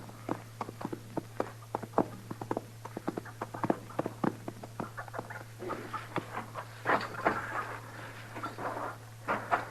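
Horse hooves clip-clopping in a quick, uneven rhythm of many sharp knocks over a steady low hum, moderately close and continuing throughout, in an old Gunsmoke radio drama.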